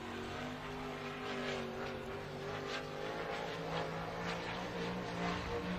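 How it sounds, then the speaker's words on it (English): A 410 sprint car racing engine, car number 7B, runs on a dirt track at Texas Motor Speedway, and it does not sound quite right. Its continuous droning roar holds steady at a moderate distance, with no talking. "Engine not sounding exactly up to snuff in that car, number 7B of Brown"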